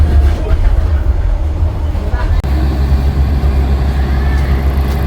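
A Vietnamese passenger train pulling into Haiphong station, with a loud, steady low rumble of rolling wagons close by, a brief jolt near the middle, and a voice talking over the noise.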